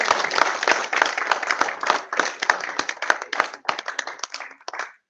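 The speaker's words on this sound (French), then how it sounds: "Est-ce qu'on peut acclamer pour le serviteur?" A church congregation claps and applauds a preacher in a dense burst of many hands, steady for several seconds and then thinning out toward the end.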